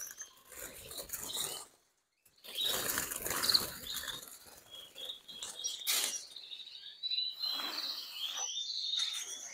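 Agate canaries flutter and flap their wings in a cage while being caught by hand, giving bursts of rustling wingbeats with brief chirps and a short pause of quiet near the start.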